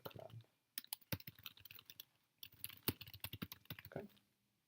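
A command typed on a computer keyboard in a coding lesson: two bursts of rapid, close key clicks separated by a short pause, with no talking.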